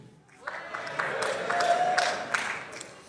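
A comedy show audience in France claps and cheers in a swelling burst of applause, a dense crowd roar with scattered whoops rising for a few seconds.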